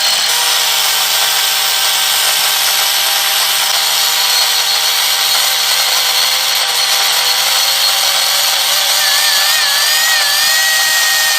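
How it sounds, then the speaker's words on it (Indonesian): A drill and grinder whine continuously against brass, a steady high grinding hiss with a pitch that shifts slightly near the end, loud and close, no talking. "Kemudian ini perlu dihaluskan dengan 2 alat yaitu bor dan gerinda."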